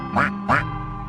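Two bright quacks from a cartoon duck in a children's nursery rhyme song, loud and close, spaced about a third of a second apart with a low musical backing under them.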